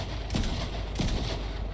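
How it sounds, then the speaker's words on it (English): Two sharp gunfire bursts ring out in a Fortnite Zero Build solo match, each one loud with a short broadband crack, roughly half a second apart, over steady in-game background noise. "There's shots, bro."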